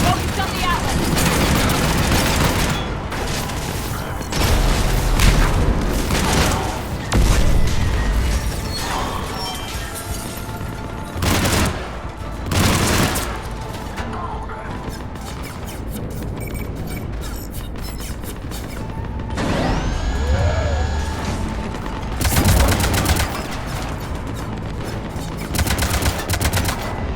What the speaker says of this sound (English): Cannons engaging.